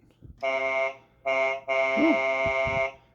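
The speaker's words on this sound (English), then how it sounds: "Got a truck horn." A toy truck horn from a Transformers Earthspark Deluxe Optimus Prime figure blares electronically in three close, buzzy honks, two short then one longer, with no speech.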